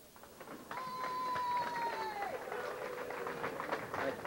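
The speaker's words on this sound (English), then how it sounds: "How about a nice round of applause for Jimmy Oliveri?" An audience applauds a fourth-place player at a 1990 New Year's singles classic tournament, with a steady, moderately distant wash of clapping rising and holding under a faint tone.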